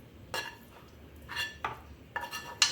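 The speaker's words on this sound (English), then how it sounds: "Should probably not be scratching this pan with this," Small metal spoon scraping and clinking against a pan while onion filling for pierogi cooks, three or four separate scrapes spaced apart, fairly close with quiet gaps between.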